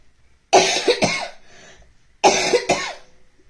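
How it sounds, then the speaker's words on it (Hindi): Two close bursts of coughing, each a pair of harsh coughs, separated by a short silence. "मेरे को तो बड़ी खांसी हो रही है"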